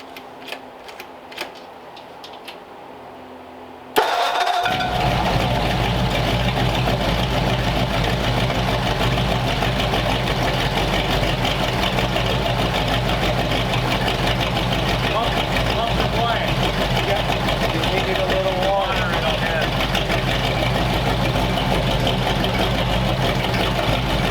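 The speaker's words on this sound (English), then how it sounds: "we're going to get these engines running and let you hear the sweet sounds of some Flatheads" A Ford Flathead engine cranks and catches after a few seconds of quiet workshop noise, then settles into a loud, steady, even idle running close by for the rest of the clip, with some talk in the background.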